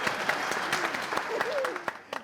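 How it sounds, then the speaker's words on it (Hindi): Studio audience applause on a Hindi police-station comedy show set, steady dense clapping with a few brief voices and sound effects mixed in. "बजा लो जरा सब ताली बजा लो"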